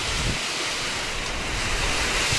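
Strong typhoon wind roars continuously, a loud rushing buffet against the microphone, mixed with what sounds like surf.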